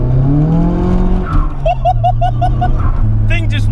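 A modified 350 bhp rear-wheel-drive Nissan Silvia S14A engine revs hard as the rear tyres spin and squeal, pitch rising and falling in quick surges, loud and close.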